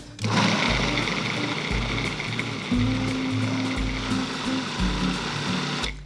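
Blender whirring scallions and cooked, peeled fava beans into a chunky dip, running continuously and loud up close with short pulses in the motor tone, stopping abruptly at the end.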